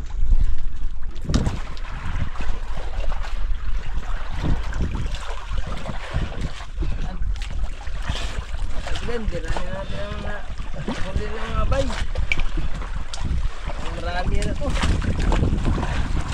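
A boat moves across open water with steady engine drone, wind buffeting the microphone and splashing waves; voices talk faintly over it.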